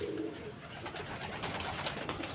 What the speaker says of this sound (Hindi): यह साडा वड्डा सलारा कबूतर आ गया जे।